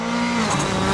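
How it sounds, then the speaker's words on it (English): A rally car engine revs loudly and continuously through corners at a Barbados rally, its pitch shifting as it changes speed, with a faint tire squeal in the mix. "Listen to the engine rev through the corners."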